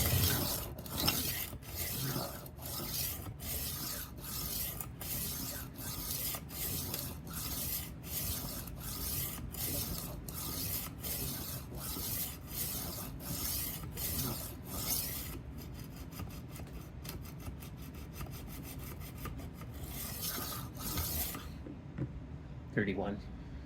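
A 12-inch Henkel chef knife drawn across a sharpening stone, about twenty evenly spaced rasping strokes in a quick regular rhythm, then a softer, faster run of short scrapes before stopping.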